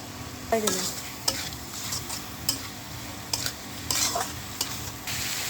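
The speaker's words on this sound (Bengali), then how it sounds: "আস্তে আস্তে ভাজা হোক মুরগির মাংসগুলো" Chicken pieces sizzle steadily in a pan while a utensil scrapes and stirs, giving repeated sharp scraping clicks over a continuous frying hiss, close up.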